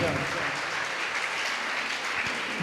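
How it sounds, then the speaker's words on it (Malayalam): An audience applauds at a talk on football and careers, dense steady clapping from a crowd sustained throughout, fairly loud and close. "എല്ലാവരും ഒരു നല്ല കയ്യടി കൊടുക്കാൻ"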